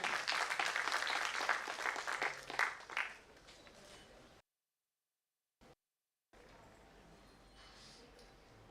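Applause at a mango growers' association ceremony honouring a guest, a loud crowd clapping for about three seconds that then fades, followed by a gap and faint room noise.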